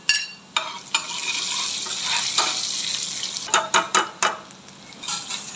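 Onion and garlic frying in oil for a daal tarka, a steady close sizzle broken by several sharp clanks and scrapes of a stirring spoon against the pan, with no voices.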